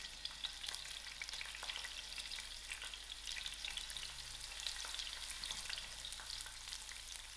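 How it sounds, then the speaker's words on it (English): Onions frying in oil in a pot over medium heat give a steady, close sizzle that crackles on without a break, with no one talking. "To my oil, I'm going to add in my onions."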